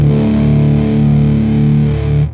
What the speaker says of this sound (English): Let's hear what each of these diode switches sounds like.